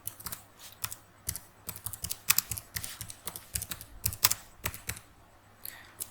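Keys clatter on a computer keyboard while a short line of code is typed, with quick irregular taps and brief pauses, close and soft with no voices.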